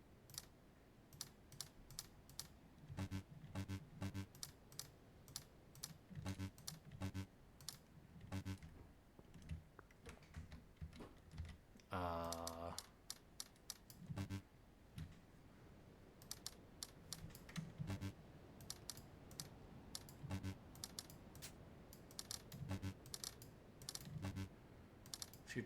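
Computer keyboard presses while playing the puzzle game Taiji: quiet, steady clicking of keys in short bursts and single taps, with one brief tonal chime partway through.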